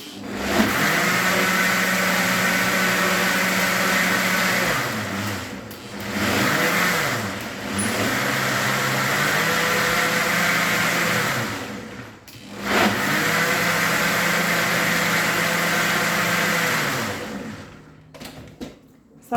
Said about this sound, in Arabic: غادي نزيد هذه الكميه الاخرى اللي بقات عندي ديال الزيت وغادي نحاول نطحن غير شويه